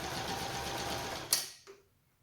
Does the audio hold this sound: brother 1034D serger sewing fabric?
yes